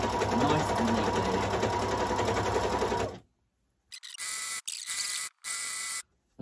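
A sewing machine fitted with a Wayliner runs in a steady, close whirring stitch while applying a waistband, then stops and follows with several short bursts of stitching separated by pauses.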